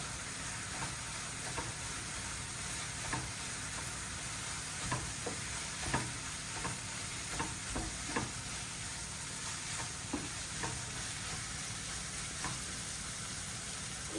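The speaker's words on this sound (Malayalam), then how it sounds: "ഈ കപ്പ ഗ്രേറ്റ് ചെയ്തതും കൂടെ ഇതിനകത്തോട്ട് ചേർത്ത് മിക്സ് ചെയ്തെടുക്കാം." Grated tapioca being stirred into chicken in a pan, giving a steady soft sizzle with irregular scraping and stirring clicks throughout, close and alone.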